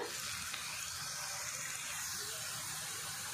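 Slices of bitter gourd frying in hot oil for chips, a dense, continuous sizzle and crackle held at an even level throughout, fairly quiet and close, with no talk.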